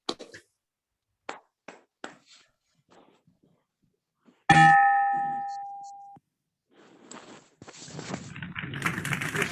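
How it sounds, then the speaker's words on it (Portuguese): A Rotary club meeting bell is struck once, a clear ringing tone that decays over about two seconds, amid sparse clicks and followed by rustling and low room noise. "toque o sino rotário"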